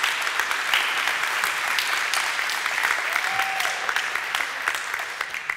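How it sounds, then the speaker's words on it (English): A crowd at The Things Conference UK applauds the organisers after the opening keynote, dense, even clapping that holds steady throughout and tapers slightly near the end. "I just want to start off with a great hand of applause to Mark, Emily, and the team for pulling this off"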